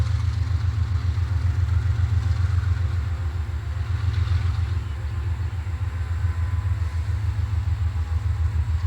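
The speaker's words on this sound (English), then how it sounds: "He knows how far to pull his locomotive up." A train locomotive idles steadily at close range, a continuous low diesel rumble with a rapid rhythmic throb that holds constant throughout, with no talk over it.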